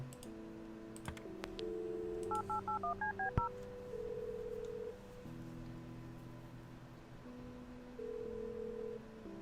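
Telephone keypad tones from a number being dialed in the Kathy Rain point-and-click game, a quick run of about eight evenly spaced beeps over a steady background music bed, then a single sharp click.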